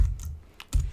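A few close, quick keystrokes on a computer keyboard in two short bursts, quiet room.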